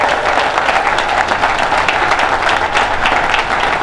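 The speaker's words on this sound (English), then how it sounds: "let's give them a nice round of applause." Dense applause from a large crowd at a ribbon-cutting ceremony for a new baseball stadium, steady sustained clapping throughout at a loud, even level with no speech over it.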